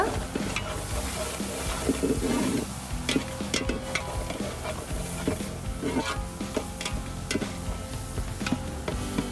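Dal with spinach and raw mango being stirred in a pot, with a steady run of soft scraping and clinking ticks from the spoon over a faint sizzle, close and alone.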